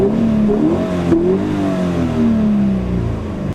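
A light Toyota 86 sports car revs its engine steadily and loudly, pitch rising and falling through the whole stretch with a brief dip near the middle, no talking over it.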